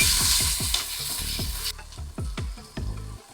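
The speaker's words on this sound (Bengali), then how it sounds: "এখন ওই তেলেই বেশ কিছুটা কুচনো পেঁয়াজ দিয়ে লাল করে ভাজবো" Chopped onion fries in oil in a pan, a loud steady sizzle at first that drops off, while a spatula stirs and scrapes in repeated rhythmic strokes; no talking.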